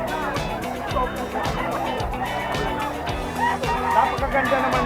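Chickens at a busy open-air market, with clucking mixed into steady crowd chatter and nearby bargaining voices that run through the whole stretch.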